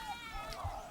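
Goats bleating on a livestock farm, a faint wavering cry heard at a distance above a quiet background.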